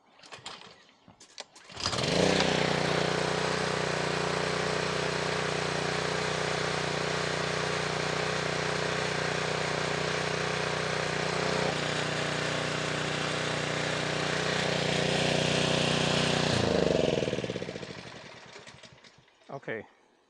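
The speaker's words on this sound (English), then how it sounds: "Let's switch the engine on, and we're gonna pull start." A pressure washer's petrol engine pull-started, catching after a couple of rough tugs and then running loud and steady at high revs for about fifteen seconds before cutting out, up close, with no one talking.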